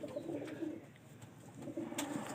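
Several pigeons at a breeder's loft coo in soft, low, repeated phrases, close by and fairly quiet, with light background rustle.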